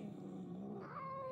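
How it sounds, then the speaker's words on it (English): A cat in the video game Murdered: Soul Suspect gives a low, rumbling growl that rises into a sharper, higher snarl, close up and fairly quiet. "Easy, kitty."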